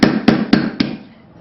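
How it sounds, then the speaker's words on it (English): Four sharp metallic strikes from a 4-ounce ball peen hammer on a metal disc cutter land in quick, even succession, each ringing briefly before the last fades out. "I have a 4-ounce ball peen hammer"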